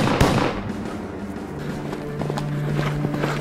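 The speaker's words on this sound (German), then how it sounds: "Darauf fallen mehrere Schüsse." Several gunshots crack in a World War I account of a mounted soldier's charge. A sharp report comes first, then scattered, fainter shots and thuds over a steady rumble.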